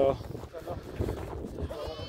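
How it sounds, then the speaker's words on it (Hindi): Sheep in a herd kept alongside camels bleat a few times nearby, mixed with people talking. "भेड़ है ये"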